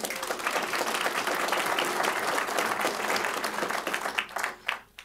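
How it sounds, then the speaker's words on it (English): Audience applause filling a county commission meeting room during a property tax discussion, a dense sustained wash of clapping that thins into a few scattered claps near the end. "If you were here for property tax, will you please clap?"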